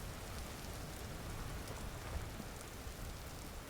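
Rain in the survival game Vintage Story falls as a steady, dense hiss of drops on surfaces, with a faint low rumble beneath and no voices.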